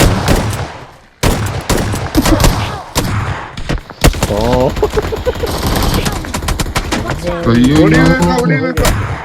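AKM rifle fire in BGMI (PUBG Mobile) comes as loud, close bursts of rapid shots with short pauses between them, while voices talk over the later volleys.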